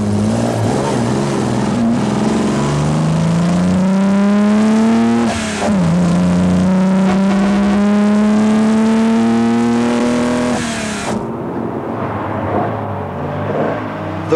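Classic rally cars, a big Austin-Healey and an AC Cobra, race on a marathon rally, one engine loud and close, revving and climbing through the gears with a brief lift, then cutting away abruptly.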